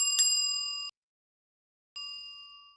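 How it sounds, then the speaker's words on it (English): A bell dings twice to summon a trade wind tides bounty in a baseball game stream: a bright, clean metallic strike that rings and decays, then a second identical ding after a short silence. "There's the bell calling trade wind"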